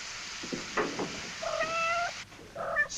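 A cat meows twice, close and clear, a drawn-out tonal cry followed after a pause by a shorter one, set against faint rustling and a soft knock.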